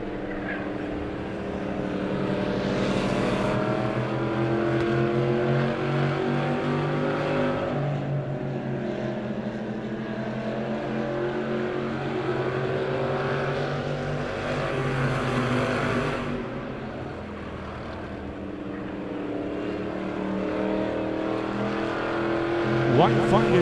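Dirt track pure stock race cars at Lebanon I-44 Speedway roar steadily around the oval, engine drones swelling and fading as cars pass, under constant announcer talk.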